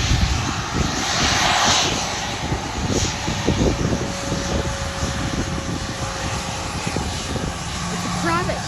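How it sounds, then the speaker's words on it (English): A private jet's engines roar steadily at Sydney airport, a broad loud rumble with a faint high whine, heard from the spotting area while people talk over it. "It's a private jet."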